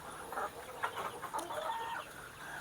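Several native chickens held in galvanized battery cages cluck and chatter together at close range, a continuous overlapping murmur of calls with occasional sharper clucks rising out of the mix.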